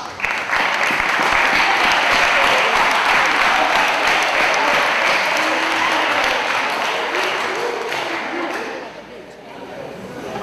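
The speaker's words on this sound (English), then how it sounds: "y'all should get another round of applause" An audience at a Prestige Academy school event gives a loud, sustained round of applause. It stays dense and steady and then fades out toward the end, with some voices faintly underneath.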